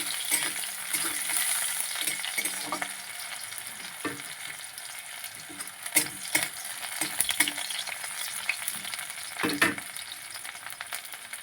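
Onions fry in a pan for a fish curry, giving a steady, fairly soft sizzle with occasional sharper clicks and scrapes as they are stirred, and nobody speaks.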